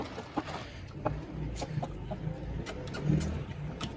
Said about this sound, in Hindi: तो यार यहाँ पर है हमारी न्यू मुर्गियाँ।